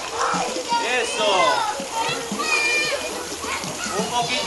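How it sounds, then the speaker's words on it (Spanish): Children kick and splash water in a swimming pool on a first pool day, producing steady churning splashes under excited children's voices and an adult instructing nearby. "ahora van a empezar a patear un poquito en el agua"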